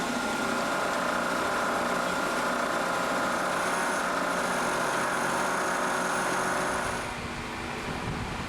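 Milling machine making a high-RPM finishing pass on a 66-degree angle pressure plate for a Kurt vise; a steady, loud whine and hum of the spinning spindle and cutter runs continuously, easing slightly near the end.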